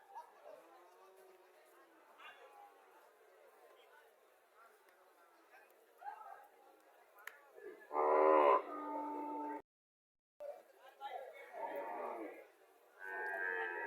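A dairy cow of the PGM breed lowing at a busy rural cattle market, one loud drawn-out moo standing out among crowd chatter and people talking nearby.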